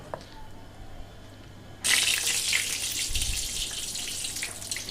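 Jute leaf fritters coated in batter drop one by one into hot oil: a sudden loud, steady hissing sizzle bursts in after a quiet start and carries on crackling to the end.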